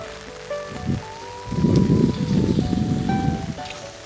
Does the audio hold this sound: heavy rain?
yes